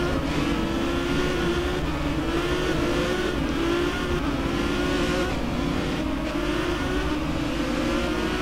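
Renault Mégane race cars lapping Istanbul in a sim racing game, a steady, loud, continuous engine drone with rising and falling revs as the cars run close together, alone without any talk.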